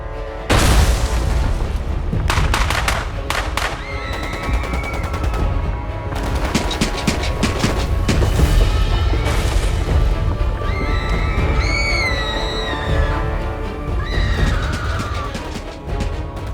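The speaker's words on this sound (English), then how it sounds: "The deafening explosions overwhelmed their cries" Dense battlefield chaos: repeated gunshots and heavy booming explosions, loud and continuous, with bursts of rapid fire and whistling tones over a rumbling low end.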